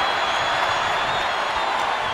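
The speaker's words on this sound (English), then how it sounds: "What a raucous crowd here tonight." Arena crowd noise from a WWE 2K24 wrestling match fills the space with a steady, loud roar and faint cheers throughout, with no other sound standing out.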